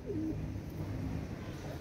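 Racing pigeons, a pair kept for flying, give soft low coos near the start and again at the end, faint against a steady background hum.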